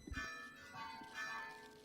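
Christmas bells ring at a party, with bright sustained tones that swell and fade in two overlapping waves. A brief low knock is heard near the start.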